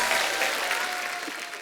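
An audience applauds at a comedy-style talk show, a steady, dense wash of clapping from many hands with no voices over it, holding level for the whole moment.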